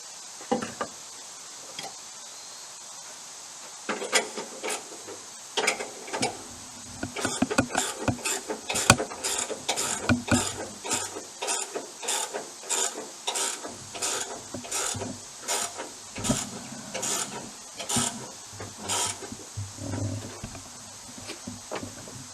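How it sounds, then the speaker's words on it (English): A sander works over a wooden bar top in a rapid series of rough, rasping strokes, close and fairly loud, starting after a few quiet seconds and continuing in a steady stop-start rhythm without talking. "take the sander over top of it and sand it down the way we want it"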